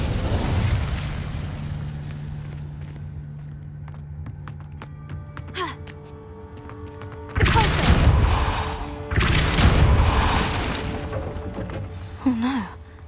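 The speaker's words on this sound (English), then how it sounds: "Incendio!" Incendio fire spell cast in Hogwarts Legacy, two loud roaring bursts of flame a couple of seconds apart after quieter game ambience, with a voice speaking briefly.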